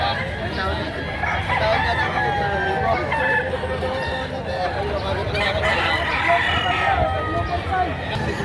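Roosters crow repeatedly amid clucking chickens at a livestock market in Padre Garcia, Batangas, while people chatter nearby in a busy, noisy setting.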